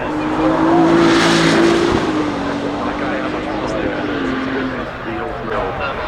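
An Aston Martin hypercar pulls out onto a race track, its engine rising to a loud, close roar with a falling whine, then settling as it moves off, with talk over it.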